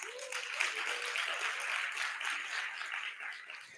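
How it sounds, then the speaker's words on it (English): Sustained applause from a writers' symposium audience, a dense wash of many hands clapping at steady volume for several seconds, with no speech. "give yourselves a round of applause"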